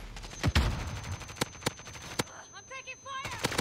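Gunfire in Call of Duty Warzone, sharp scattered shots and bursts at varying distances, with voices talking and an electronic chirping effect in between.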